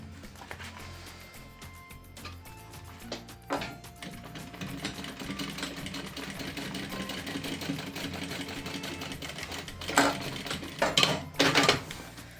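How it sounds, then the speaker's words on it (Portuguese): A sewing machine runs a continuous stretch while sewing a close edge seam on a preschool 3D animal backpack, with clunks and handling knocks near the end. "faço retrocesso no início e no fim e faço aqui a costura"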